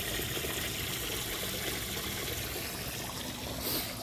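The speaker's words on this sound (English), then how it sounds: "And that pump runs all winter. It makes a good stream." Pump-driven water stream in an outdoor koi pond, flowing steadily and unbroken, a dense close trickling rush with no voices.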